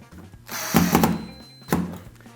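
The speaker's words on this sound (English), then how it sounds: "take your cordless drill and drive it in" A brief whir of a cordless drill in two short bursts driving a screw, close and fairly loud, with a low hum underneath.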